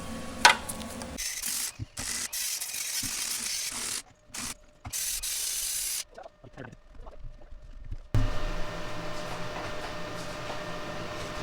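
Tools ratchet and clank while the drive shaft is worked off a 1948 Willys CJ2A Jeep, with irregular close bursts of metallic clicking and scraping broken by short silent gaps.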